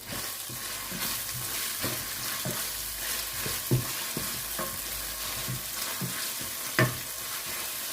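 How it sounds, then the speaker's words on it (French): Garlic is stirred in a non-stick pot for Senegalese chili sauce, following onions, as a spoon scrapes the base in steady strokes over a constant sizzling fry with a few sharper clinks. "je remue en fait"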